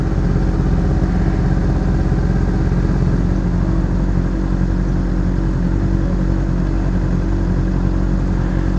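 A Honda CBR motorcycle engine runs steadily at close range, a continuous low, throbbing drone that holds an even level with no talking over it.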